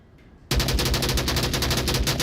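Rapid automatic gunfire in the Onward VR video game, a fast, steady, close and loud burst that starts abruptly after a short quiet moment and keeps going to the end.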